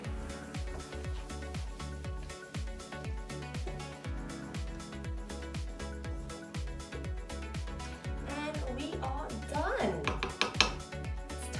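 Rosé tteokbokki is mixed in a pan with a steady rhythm of scraping clinks from a utensil against the metal, under background music, with a voice speaking near the end.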